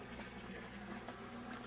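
Water from an aquaponics bell siphon drains steadily into a grow bed, a constant low rushing, gurgling flow that stays even and close throughout.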